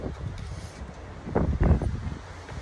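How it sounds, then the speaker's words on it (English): Strong, cold wind at a ranch at 14 degrees, roaring steadily into the microphone with gusts that swell in the middle, flag whipping somewhere in it; no one speaks. "Wind's kicking pretty good."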